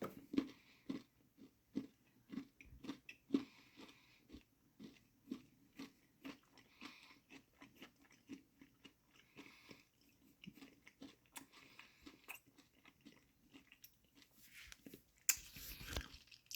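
Crunchy Lunchly chocolate crunch bar being chewed close up, a steady run of crisp, rhythmic crunches with soft squishy bites between them, and no talking.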